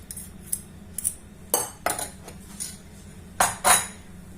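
A spoon scrapes and taps against a bowl while tomato paste is scooped in, giving a few separate clinks and scrapes close up with short pauses in between.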